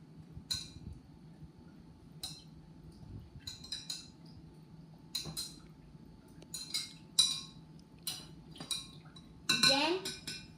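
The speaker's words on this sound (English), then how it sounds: "Now, we're going to mix that around with this very long spoon." A very long spoon clinks against a glass or jug while stirring sugar into lemonade, with irregular bright metallic taps and scrapes spread through the clip over a quiet background.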